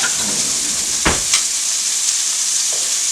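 Scallops sizzle in a hot pan, a loud continuous frying hiss with a few brief crackles and one spatter burst, close up.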